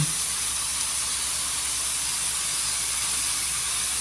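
Dried sardines sizzle in a hot pan, a steady, loud, broadband hiss that runs unbroken and close throughout, with no talking.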